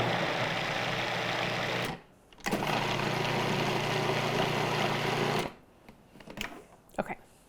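A food processor pulses flour into a ricotta cake batter in a steady motorized whir that runs in two bursts with a brief stop between them, then gives way to quieter clatter and handling noises.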